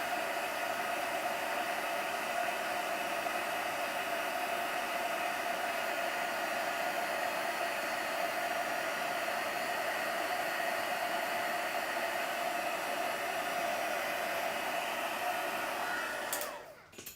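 Silent heat tool for melting embossing powder in card making, a steady whirring blower with broad hiss, close and alone, running continuously before cutting off at the very end.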